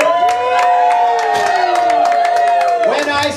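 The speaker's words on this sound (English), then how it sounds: "give our volunteers another big round of applause before they can't hear you anymore" A live concert crowd at the Regal Beagle cheers, whoops and claps, a dense, loud wash of voices and applause running throughout with tonal shouts on top.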